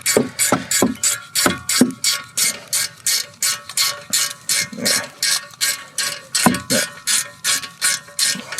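A ratchet clicks rapidly in steady bursts while backing out a front brake bolt on a BMW 3 Series, loud and close, with a few metallic knocks between strokes.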